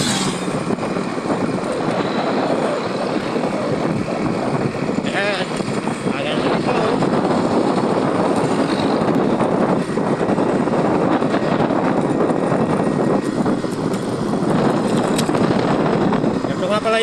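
A Yamaha 125 motorcycle riding along a newly built road between Batangas and Bicol, its engine drone buried in steady, loud wind roar that blankets the whole stretch without a break.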